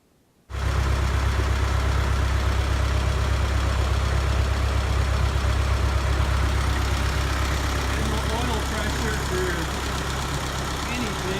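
A freshly rebuilt Ford 9N tractor engine starts abruptly after a brief silence and then runs at a loud, steady idle nearby, with a rough low rumble throughout.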